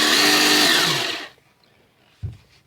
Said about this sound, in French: un moteur du style marteau perforateur, hein, qui va envoyer des impulsions et qui décolle pas mal la crasse